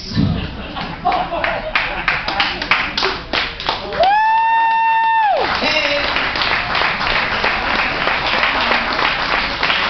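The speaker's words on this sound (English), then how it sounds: "Give her a big round of applause once again" An audience at a comedy roast claps steadily and briskly, with a brief rising electronic tone cutting in midway before the dense clapping resumes and carries on to the end.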